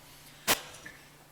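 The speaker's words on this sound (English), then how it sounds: "every sentence has to end with a little cough" One short, quiet cough from a lecturer speaking on hydrogen and fuel cells, a single brief burst in an otherwise hushed room.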